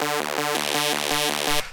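A gritty synth bass heavily distorted with a roar effect pulses in a steady repeating hard bounce rhythm, buzzy and saturated, loud and alone.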